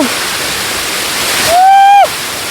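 Water rushes and splashes against rocks in a steady, loud roar, with wind and a brief whistling tone rising above it near the end, at Vattavada near Munnar.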